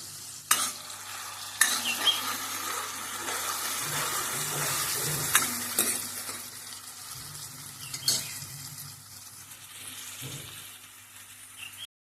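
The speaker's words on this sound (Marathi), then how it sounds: "आता आपण आलं लसूणची पेस्ट घालून घेतली, मग ती ना अशी भाजत द्यायची आतमध्ये" Ginger-garlic paste fries in a pan in a Konkan village kitchen: a steady close sizzle with occasional sharp scrapes and clinks of stirring, and no one talking.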